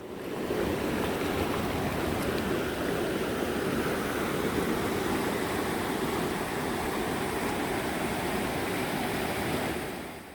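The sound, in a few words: mountain valley stream flowing in Odaesan fir forest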